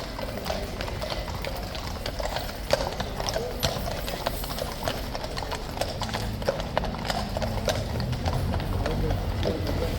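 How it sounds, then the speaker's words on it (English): Hooves from a large group of King's Guard horses clop continuously on a paved street, a dense overlapping rhythm heard from close to moderate distance amid faint crowd background. "Clopping out in a big group."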